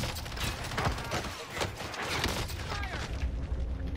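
In a video game match, bursts of gunfire rattle in rapid, overlapping volleys over about four seconds, loud and dense, with mechanical clicks mixed in.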